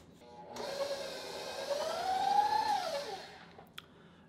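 Electric stand or hand mixer beating keto gingerbread cookie dough, a close whirring motor hum that rises in pitch and then falls away before stopping, with a faint click at the end.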